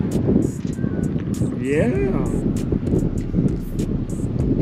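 Gusty wind buffets the microphone with a steady low rumble while a voice speaks briefly over it, outdoors while fishing for white bass.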